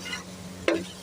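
Whole green chillies frying in a pan, a low steady sizzle with one sharp stirring scrape near the end, brief and close.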